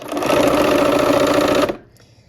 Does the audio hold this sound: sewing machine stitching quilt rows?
yes